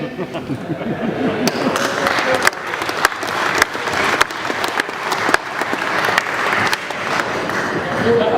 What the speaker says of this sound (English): A better round of applause for that.